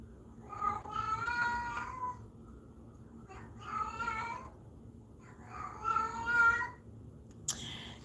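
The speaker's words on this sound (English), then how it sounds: "And my cat is in heat again, which she shouldn't be." A female cat in heat meows loudly and insistently close by, three long drawn-out yowling calls separated by short pauses, followed by a brief sharp sound at the end.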